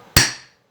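A hammer strikes the flywheel of a small chainsaw engine of under 50cc once, a sharp close metallic knock that rings briefly and fades.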